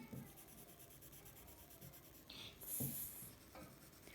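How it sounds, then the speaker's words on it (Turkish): Colored pencil shading a bee drawing on paper, a faint, steady scratchy rubbing close up, with strokes repeating in a soft rhythm and a slightly louder burst near the end. "Arıya boyamaya başlıyorum."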